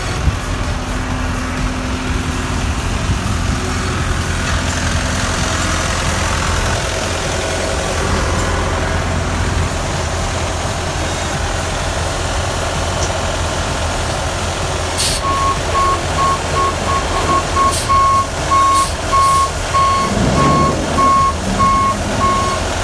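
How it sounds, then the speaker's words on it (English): A tipper truck with a trailer idles with a steady low diesel rumble at a landfill, then its reversing alarm begins a regular, evenly spaced beep that repeats over the engine, with a few sharp clanks near the end. "Now I'm going to get on the truck and we'll reverse the truck."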